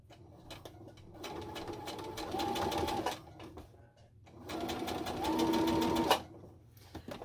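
Domestic sewing machine stitching knit pyjama fabric: two steady runs of rapid mechanical whirring and needle clatter, each a few seconds long with a brief pause between, close and fairly quiet.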